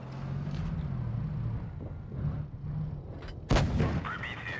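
Obj. 260 tank gun firing in World of Tanks Blitz: a single sharp, loud cannon blast cutting over a steady engine drone, followed by a brief rumbling tail.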